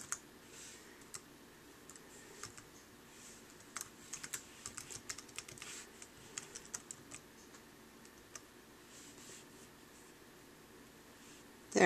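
An email address is typed on a computer keyboard, giving quick, faint, irregular key clicks in short bursts against a quiet room.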